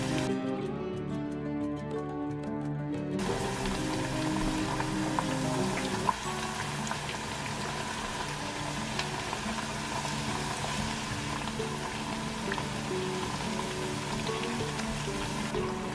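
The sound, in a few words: deep frying Point Pedro vadai in oil on medium heat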